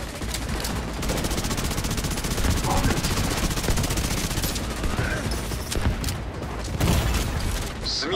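Dense, continuous gunfire in the shooter game The Division 2: rapid submachine-gun bursts layered with overlapping shots and mechanical rattles, loud and nonstop, with faint game voices mixed underneath.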